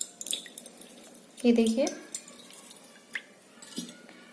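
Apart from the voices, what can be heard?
coconut water dripping through strainer into vessel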